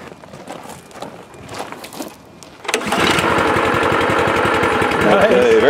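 A pull-started plate compactor engine bursts into life after a couple of seconds of quiet talk, then runs loud, close and steady with a rapid buzzing rumble until the end.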